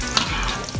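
Ginger sautéing in a hot pan for chicken curry makes a steady close sizzle, with two sharp stirring scrapes or clicks on top.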